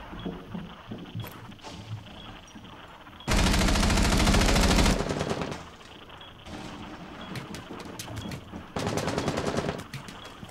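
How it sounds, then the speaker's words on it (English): Bursts of automatic gunfire in the Rainbow Six Siege video game, with a long dense volley in the middle and another loud burst near the end, between scattered single shots and clicks. "look out. Someone's in trench. Trying to shoot at you."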